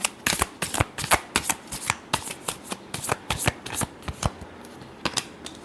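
Tarot cards are shuffled close up in a quick run of crisp riffling bursts, about two dozen sharp flicks in an uneven rhythm with short gaps, and no talking.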